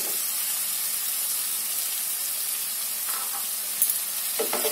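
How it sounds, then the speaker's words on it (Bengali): Fish heads fry with softened tomatoes in a pan for moong dal, giving a close, steady, even sizzle throughout. A couple of faint utensil clinks come near the end; no one speaks. "আমি এর মধ্যে মাছের মাথাগুলো দিয়ে দেবো।"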